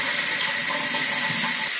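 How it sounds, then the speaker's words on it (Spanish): Cooking water pours off boiled vegetables from a Ninja pressure cooker pot for beef broth, a loud, steady, close rushing hiss of draining liquid with no pauses and no talking. "vamos a retirarle el agua a la verdura"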